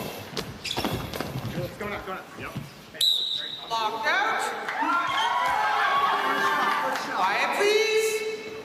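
Goalball ball bouncing and rolling across the court at the Paris 2024 Paralympics, sharp thuds early on, then a sustained rattling roll with bell-like tones, set against a quiet arena hum with scattered crowd noise and some speech.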